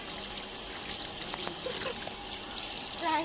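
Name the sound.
water while washing rohu fish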